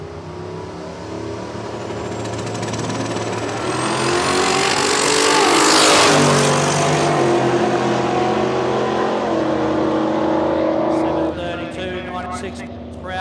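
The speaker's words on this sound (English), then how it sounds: "that green Charger looks awesome coming at you with the smoke and the tyres coming for you" A green Dodge Charger accelerates hard down a drag strip at a road trip drag challenge, its loud roaring engine building and passing close before dropping away, while a commentator talks over it.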